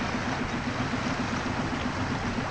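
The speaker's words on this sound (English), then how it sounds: "Look at the surging water." Strong tidal current pours through Hole in the Wall, a tight channel in Desolation Sound, BC, making an unbroken, churning roar of moving water that stays close and even throughout, with no one speaking.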